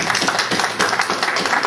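Short burst of audience applause at a table tennis tournament gathering, brisk clapping from a room of people.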